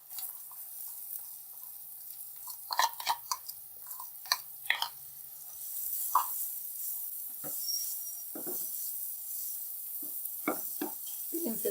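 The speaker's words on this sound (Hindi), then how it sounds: "तीन से 4 मिनट फ्राई करेंगे ताकि प्याज का कच्चापन दूर हो जाए।" Onions fry in a pan with garlic, fennel seeds and cumin, giving a faint continuous sizzle broken by scattered stirring scrapes and clicks, quiet and close.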